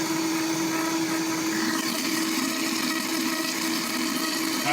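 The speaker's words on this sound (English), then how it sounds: "We're going to puree that until it's nice and smooth." A blender purees an asparagus mixture into a thick soup in a club kitchen, with a loud, continuous whirring motor roar and a steady hum running close up throughout, no talking.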